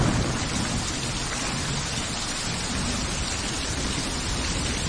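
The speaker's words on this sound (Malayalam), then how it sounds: "അതിവിടെ നല്ല മഴ, ഒന്നും കേൾക്കുന്നില്ല" Heavy rain pours steadily with thunder rumbling underneath, a dense, loud and unbroken downpour close by with no voices over it.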